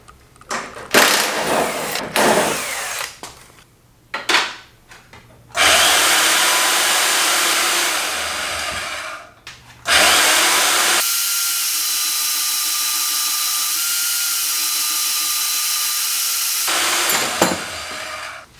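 A power tool cuts off a metal bracket on an LS1-swapped E36 BMW in a garage, loud bursts of high whining grind starting and stopping, with two long sustained cuts and clanks between them.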